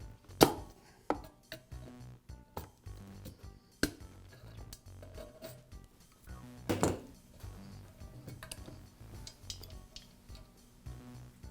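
A metal hose clamp is cut free on a Porter Cable air compressor during gasket repair, giving sharp, close metallic snips and clacks at irregular intervals over handling clatter, with no talking.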